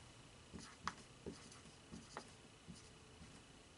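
Pen or marker writing the names of trig functions on a surface: a series of short, faint scratchy strokes in an irregular rhythm, close by and quiet, with no talking.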